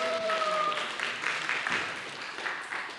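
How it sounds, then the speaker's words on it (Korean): A group claps after someone stands and reads aloud, a moderately soft burst of clapping that trails off over a few seconds, with a brief tonal voice at the start. "박수"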